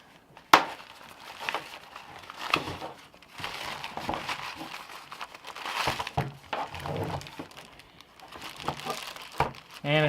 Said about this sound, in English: it's inside a plastic bag, which you just slide out